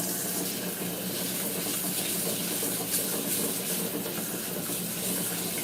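Cold tap water running steadily into a sink for rinsing rice, a continuous, fairly loud hiss and splash with no pauses and no voices.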